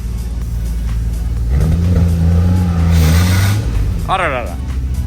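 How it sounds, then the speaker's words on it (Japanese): A long-neglected Toyota Supra roars on a dyno as its tires spin, the engine note climbing and holding loud before easing, with voices exclaiming over it. "タイヤがスピンしちゃってる"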